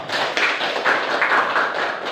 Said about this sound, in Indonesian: Tepuk tangan untuk Reno.